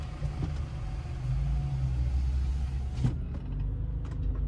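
A BMW M5 engine runs steadily nearby as a low, continuous rumble with a brief louder swell partway through, heard alone without talk.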